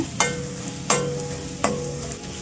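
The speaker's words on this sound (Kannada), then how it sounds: "ಮೀಡಿಯಮ್ ಫ್ಲೇಮಲ್ಲಿ ಫ್ರೈ ಮಾಡ್ಕೊಳ್ಳೋಣ" Bitter melon roasting in a pan over a medium flame, a steady close sizzle broken by three sharp scrapes of the spatula as the pieces are stirred.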